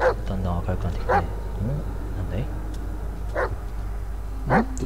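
A dog barks in the Blair Witch horror game, several sharp yips and barks spaced a few seconds apart at moderate distance, with people talking over and between them.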